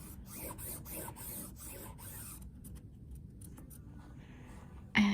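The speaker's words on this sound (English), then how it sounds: "So we'll draw a straight line across here." A pen or marker draws a straight line across dress shirt fabric, giving a close, soft scratchy rasp of short repeated strokes that fades into quiet, ending with a sudden louder bump.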